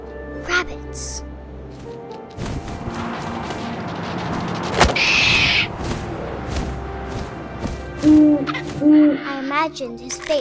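An owl hoots in the video game What Remains of Edith Finch, a few clear calls rising over windy outdoor ambience, with a sharp thump midway and further soft hoots near the end.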